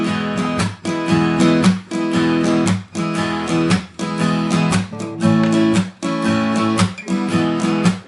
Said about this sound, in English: let's talk about slap strumming.